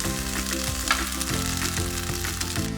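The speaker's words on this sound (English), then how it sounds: "the butter is getting brown now in the other pan" A block of butter with sage browns in a pan for a tortellini sauce, sizzling loudly and continuously close up with a faint steady hum behind it.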